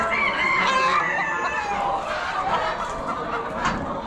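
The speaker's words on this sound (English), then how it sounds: "Big old rooster." A crowd of chickens and a large rooster at an Amish auction cluck and crow continuously, a dense layered din of bird calls close and steady throughout.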